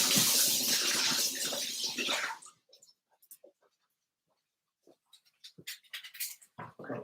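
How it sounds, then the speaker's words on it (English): Food rinsed under a running kitchen tap, a loud splashing water stream for about two seconds, then stops, followed by scattered small clatters and handling sounds. "We're going to give it a quick rinse."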